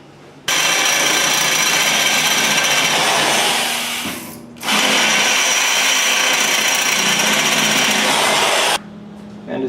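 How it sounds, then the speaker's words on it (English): A power drill bores a pilot hole on a Suzuki GS550 cafe racer build, two long, loud, steady whining runs with a brief slowdown and pause between them, close up and alone, ending abruptly. "Start with a pilot hole and then work your way up."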